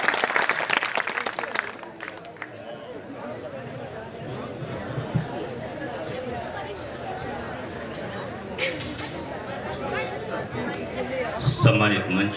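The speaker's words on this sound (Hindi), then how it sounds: "जोरदार तालियां बजे।" Loud clapping bursts from the crowd at a Kishanpur Mela kavi sammelan poetry gathering, strongest in the first couple of seconds, then fading into steady murmuring hall chatter with scattered claps.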